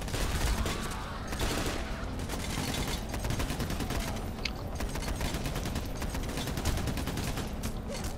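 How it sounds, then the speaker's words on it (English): Sustained heavy gunfire in the video game Payday: The Heist, dense overlapping automatic bursts and shots filling the scene loudly and continuously, with a voice briefly under it. "Oh, I'm getting shot at."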